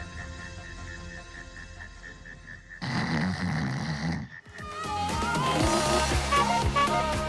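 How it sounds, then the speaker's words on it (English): A person snores loudly in several long, rasping breaths, and the sound shifts in tone partway through, close and continuous with no talking. "for those with a more mild but still annoying snore"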